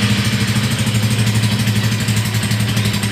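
A 2012 Honda Tiger motorcycle engine idles steadily nearby, a low, even chugging rumble with a regular rhythmic pulse and no voices.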